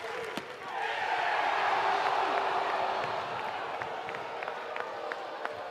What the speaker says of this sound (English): Crowd ready to explode.